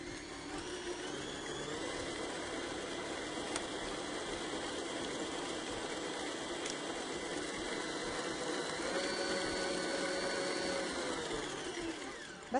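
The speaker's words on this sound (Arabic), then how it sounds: "حضيف بيضه وشغل الخلاط لغايه ما تختفي" An electric hand mixer whirs steadily as it beats an egg into cake batter, a continuous buzzing motor hum with slight shifts in pitch, fairly quiet and close, with no talking.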